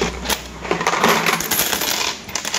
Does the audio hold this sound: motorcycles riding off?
no